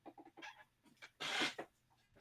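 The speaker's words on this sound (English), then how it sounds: "this little like electronic keychain. Like you hit it, and it makes different chicken noises" A small electronic keychain plays chicken sounds: a run of short clucks, then a louder squawking burst and a few more clucks, close and a bit thin.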